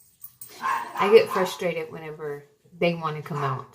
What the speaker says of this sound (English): Sorry about my dogs. They always bark early in the morning.